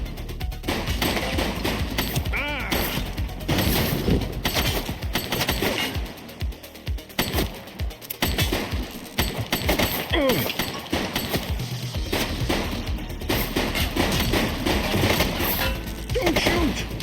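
Gunfire in The Precinct police video game, repeated shots and bursts scattered across a chaotic, continuous scene mixed with shouting voices and busy street noise.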